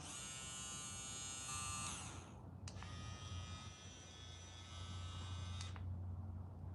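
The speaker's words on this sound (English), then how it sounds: "And these are the trimmers." JRL hair trimmers run at full speed with a steady, fairly quiet high-pitched electric buzz, cutting out briefly, then starting again for a few seconds before stopping.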